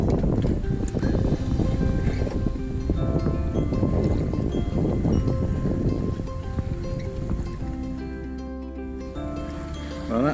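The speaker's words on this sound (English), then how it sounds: "We've only got the jib and mizzen up, but we're just wallowing along" Sailing boat under jib and mizzen in light wind, with steady wind rumble and water washing against the hull close by; a soft tonal hum shows near the end.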